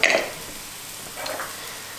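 Apples caramelize in a pan with a steady, soft sizzle. A brief stirring scrape starts the clip, and the frying hiss carries on alone close by.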